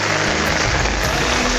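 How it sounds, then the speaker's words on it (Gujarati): Rain falling outdoors in a steady, loud, dense hiss that continues without a break. "વરસાદ થઈ ગયો આજ તો"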